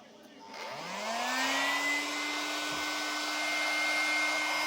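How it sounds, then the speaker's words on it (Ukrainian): A construction heater with a heating element starts up on a homemade power station, its fan motor spinning up into a steady, close, droning whir with a rising tone that holds level. "Працює строїтельний тен."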